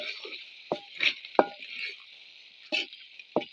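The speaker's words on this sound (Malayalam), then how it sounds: "നല്ലൊന്ന് ഇളക്കി യോജിപ്പിക്കാം അല്ലേ?" Chicken curry being stirred in a pan after pepper powder goes in, with a steady close sizzle under several distinct scraping and knocking strokes of the spoon, spaced unevenly, with no talk.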